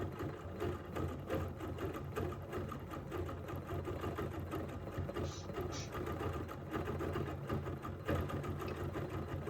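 An embroidery sewing machine stitches back over part of a design with couched fibers, a steady rapid needle chatter over a motor drone that runs without pause.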